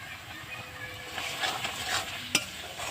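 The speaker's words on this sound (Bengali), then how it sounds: "এবার আমি ভালো করে মশলাটাকে কষিয়ে নেব।" Spices with turmeric and salt fry in a pan with a soft, close sizzle and light stirring scrapes, broken near the end by one sharp utensil click.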